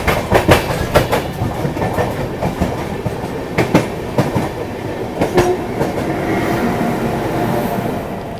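The Poorva SF Express rolls along at speed while overtaking the Amrapali Express on a parallel track, heard from inside as a loud steady rumble with repeated clickety-clack wheel beats and no talking.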